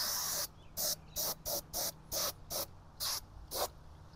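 A hand-pumped detail sprayer squirts VRP dressing in about ten short, crisp hissing bursts at an even rhythm, close and clear, with no voices.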